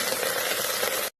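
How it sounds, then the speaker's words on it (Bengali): Ingredients stir-fried in oil while preparing a shrimp khichuri dish. A steady, dense sizzle holds throughout and then cuts off abruptly near the end. "একটু তেলে নাড়াচাড়া করে নেব"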